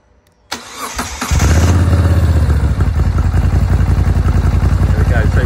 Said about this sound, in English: we'll start the bike up for you